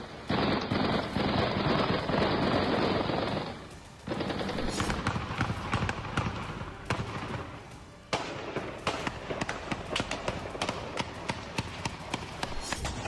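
Gunfire from a terrorist attack in Derbent, Dagestan, where a church, a synagogue and a police vehicle were targeted: long sustained bursts of automatic fire and rapid cracking shots, dense and loud, with pauses between volleys.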